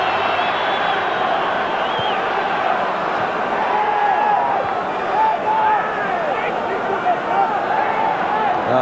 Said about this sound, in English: the crowd jeer Maradona